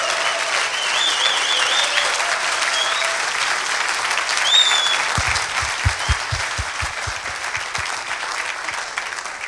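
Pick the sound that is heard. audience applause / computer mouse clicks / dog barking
audience applause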